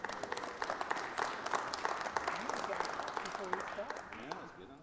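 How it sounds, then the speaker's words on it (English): Applause from the audience at a Liberal Democrat spring conference, a sustained patter of many clapping hands lasting several seconds, fairly even and moderately distant, with faint voices mixed in. "Milking the applause"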